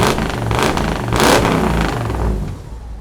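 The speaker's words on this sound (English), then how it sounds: "Did you want me to rev it up a little?" A car engine revs up and holds at speed, loud and close, its rising roar swelling and easing over about three seconds with a clattery mechanical edge and no talk.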